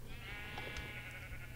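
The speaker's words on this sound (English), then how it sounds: "Oh, I got some sheep," Sheep bleating in the video game Minecraft, a brief soft bleat or two over a steady low hum of game ambience, fairly faint and without talk.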